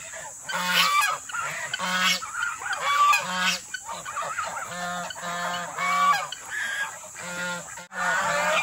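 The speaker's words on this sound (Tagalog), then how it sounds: "naglalaki yan yung gansa ko. Gansa, yan ang peking duck." Geese, including a Pekin duck nearby, honk in a repeated rhythmic series of loud, nasal calls, close and continuous with short pauses, on a farm with no talking.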